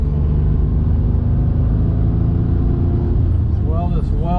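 A 1980 Maserati Merak SS engine drones steadily while driving with the windows up on a hot day, a loud continuous low rumble heard from inside the car, with a brief rising rev near the end.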